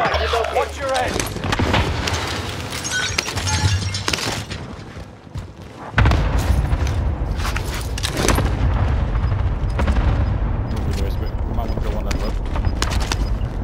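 Gunfire and explosions from the Call of Duty: Warzone battle royale shooter, dense and continuous, with a heavy boom-laden rumble throughout that surges louder midway, mixed with game voices talking over the action.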